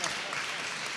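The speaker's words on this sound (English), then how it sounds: "Big applause." Applause fills the room at a talk-show style event, a dense steady wash of clapping from an audience lasting about a second without pause.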